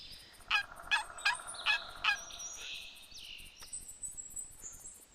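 Wild turkey gobbles heard outdoors in the field, a quick series of about five sharp, rattling calls at moderate distance, followed by quieter bird sounds and faint background noise.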